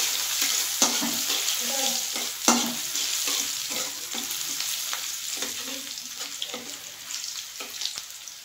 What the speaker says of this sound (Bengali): এই রসুনটা আমি এর মধ্যে দিয়ে দিচ্ছি। রসুনটা একটু ভেজে নেব।